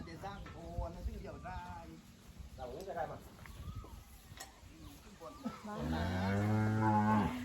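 Cattle on a small Thai farm raising fattening cows moo repeatedly. Shorter calls come early and a long, loud, drawn-out moo comes near the end, all fairly close, with rustling and bird chirps in the background.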